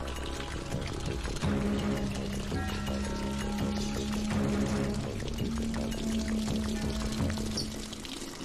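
Water is poured out in a steady, continuous stream, with a sustained tone running underneath.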